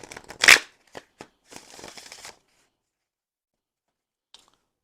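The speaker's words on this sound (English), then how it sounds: "Give it one more shuffle." Tarot cards are riffled and shuffled in a few quick, crisp bursts close by, then the sound stops, leaving near silence with one small tap near the end.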